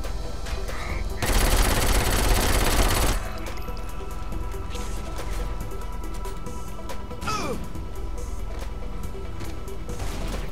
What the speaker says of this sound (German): Wer schießt denn hier auf mich?